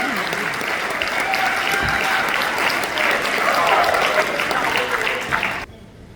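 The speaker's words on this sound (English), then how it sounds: "One more round of applause for this lovely concert band." An audience applauds a high school concert band at a winter concert, steady sustained clapping from a large crowd for several seconds before it cuts off abruptly.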